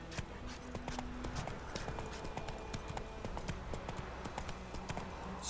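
Roach the horse walks in The Witcher 3, its hooves clip-clopping in a steady rhythm over a dense, noisy outdoor game soundscape.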